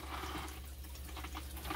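Water flows and gurgles through a fish tank filter as it restarts after cleaning, a steady close trickling wash over a low hum, with no talk.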